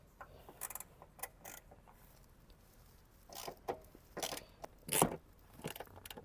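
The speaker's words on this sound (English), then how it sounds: "with your ratchet, E12 Torx bit and spanner, just remove the factory bolts" A ratchet with an E12 Torx bit clicks in short quick bursts while removing factory seat bolts in a RAM 1500 DT, close and fairly faint, separated by brief pauses and a few metallic knocks, with no talking.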